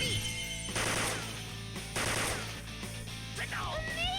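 Gunshots in Persona 5 Royal come as several loud bursts of gunfire with crashing impacts, separated by short gaps and followed by sweeping game effects.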